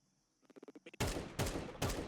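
Gunfire in Counter-Strike 2 on the Ancient map: a quick run of soft clicking footsteps, then three sharp, loud shots spaced a fraction of a second apart, ringing close and alone.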